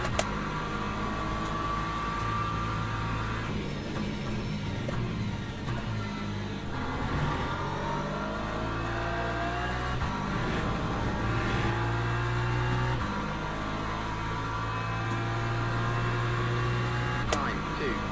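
Race car engines from Le Mans Ultimate, an LMP2 prototype and a Porsche, drone and rev steadily in sustained tones that rise and fall, with no pauses, over a constant background rumble.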